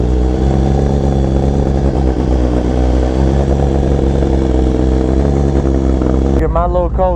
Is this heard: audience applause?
no